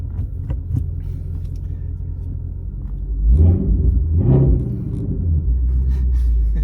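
A stock Ford Mustang's flat-plane crank V8 idles with a deep, steady rumble close by, then revs up in two quick swells before settling back to a throaty hum, with no talking.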